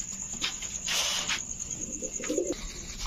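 White Indian Bombay pigeons coo nearby, a few low rolling coos, with rustling and some background hiss and no talk.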